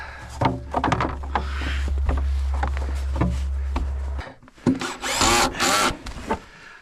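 A power drill drives self-tapping screws into a custom deck on a Ford F450, a steady loud whir for several seconds that cuts off abruptly, followed by clunks and rattling handling noises nearby.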